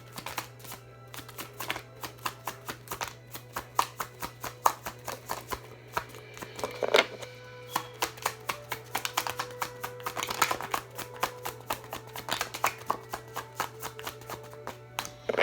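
Tarot cards being shuffled by hand, a long run of rapid, crisp flicking and riffling clicks, close and fairly quiet over a steady low hum, no talk.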